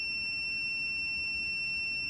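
A multimeter gives a continuous, steady continuity beep while testing a diode on a treadmill control board. The tone is loud, pure and unbroken across the whole moment, with no speech.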